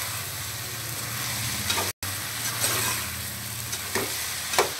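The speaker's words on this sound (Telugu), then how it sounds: "చంక్స్ కూడా యాడ్ చేసుకోవాలి. ఒకసారి బాగా మిక్స్ చేసుకోండి." Soya chunks get stirred into a mixed biryani in a pan, a soft steady sizzle with a few scraping stirs, fairly faint, with a brief dropout partway through.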